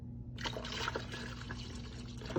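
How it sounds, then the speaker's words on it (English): Water poured into the reservoir at the back of a drip coffee maker: a steady close splashing, trickling fill that starts abruptly and runs continuously for a couple of seconds over a low background hum. "Water, labeled here, gets added in the back of the coffee."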